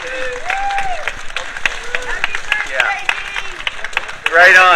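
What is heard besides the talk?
applause for attorney Dean Royer at press conference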